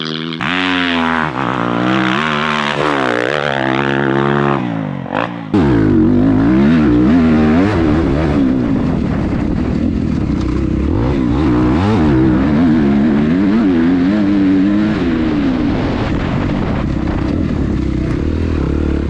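A 2023 Suzuki RM-Z250 dirt bike engine howls loud and close on a motocross track, revving hard through rapid pitch rises and drops as gears change, with no speech over it.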